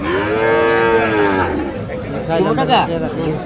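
Cattle low loudly at the Hazratpur cattle market, one long drawn-out moo up close followed by fainter calls, with people chattering around them.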